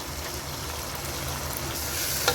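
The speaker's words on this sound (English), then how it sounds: "post frying the chicken with the tomatoes for 3 minutes" Chicken and tomatoes sizzle steadily in a hot pan, a constant close frying hiss with a faint clink near the end.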